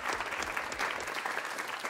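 A studio audience at the Mero Voice Cup singing show applauds a guest with dense, steady clapping that fills the room throughout.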